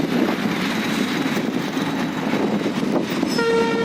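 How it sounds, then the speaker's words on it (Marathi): A train rumbles past alongside a road, a steady loud roll of wagons throughout, with a sustained horn sounding clearly near the end. "दिसच ना की रेल्वे"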